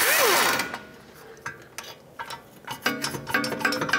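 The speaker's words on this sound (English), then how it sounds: "Next, I'm going to disconnect the pinch bolt for the lower ball joint. Use an 18 millimeter socket on the nut side and hold the bolt side with a 15" Ratcheting clicks and metallic clatter from a socket wrench loosening the lower ball joint pinch bolt on a 2013-2019 Ford Escape, in short irregular bursts with an initial louder mechanical noise, close and without talk.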